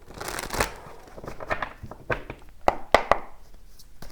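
Romance Angel Oracle cards are handled close up, with rapid papery shuffling and riffling followed by several crisp taps and slaps as cards are laid down.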